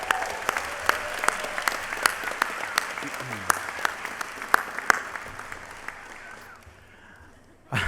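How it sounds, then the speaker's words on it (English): A round of applause from the audience at a Star Trek exhibition event, many hands clapping in a steady patter with sharp individual claps standing out, fading near the end. "Can we have a round of applause for them?"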